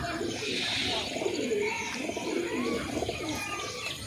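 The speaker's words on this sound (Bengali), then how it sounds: "পায়রা মানে লাইভ তোমাদেরকে দেখাচ্ছি।" Giribaz pigeons coo in a loft, with soft repeated throaty coos overlapping one another close by and a light airy background throughout, no one speaking.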